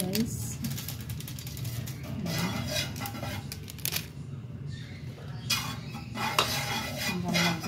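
A utensil stirs cornstarch and seasoning into raw chicken pieces in a bowl, with repeated scraping, clinking and wet churning close by, continuous throughout.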